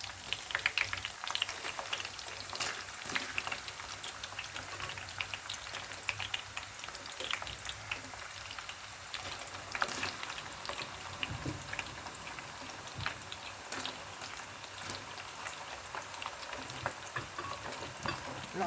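Pork frying in hot oil gives a dense, steady crackle and hiss that sounds a little distant and stays continuous with no voices.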